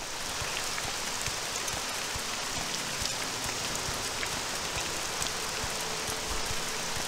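Steady night rain in a Morrowind-style role-playing video game, a constant dense hiss of drops falling on surfaces, heard alone with no talk and unchanging throughout.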